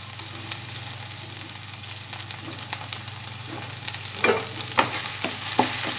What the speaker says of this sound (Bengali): আবার মশলাটা ফ্রাই করে নেব